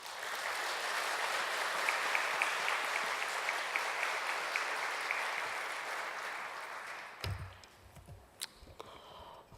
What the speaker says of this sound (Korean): 우리 목사님 박수로 환영하겠습니다.